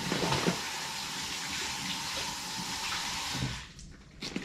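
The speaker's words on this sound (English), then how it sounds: "Make sure you wash off the edges." Tap water runs steadily over the sealed edges of a FoodSaver vacuum-sealer bag, a continuous close splashing that cuts off near the end, leaving a few small drips and handling sounds.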